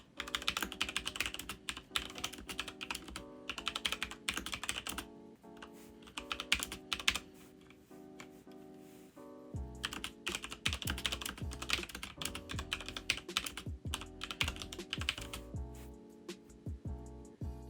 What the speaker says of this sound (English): I do like the Cherry MX speeds, especially for gaming, but here's a typing test.